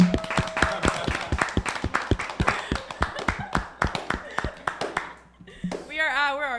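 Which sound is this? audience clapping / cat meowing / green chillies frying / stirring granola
audience clapping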